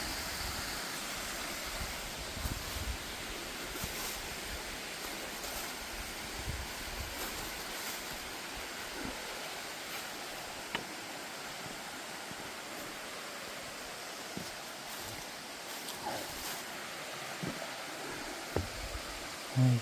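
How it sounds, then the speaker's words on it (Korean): Steady, broadband rushing of a winter waterfall beside a mountain hermitage fills the whole clip, constant and fairly distant, with no voices. "그냥 폭포 흘러내리고"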